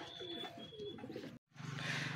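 Racing pigeons cooing close by in a loft, a few soft throaty coos with low murmuring, broken by a brief gap before a louder rumble of birds resumes.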